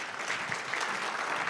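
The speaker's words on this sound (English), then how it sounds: "Please give it a round of applause." Conference audience applauding after a speech at a fintech event, a dense, steady burst of clapping from many hands filling the room.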